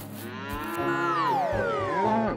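Several cows moo in long, overlapping calls, one drawn-out moo sliding downward in pitch, near and clear.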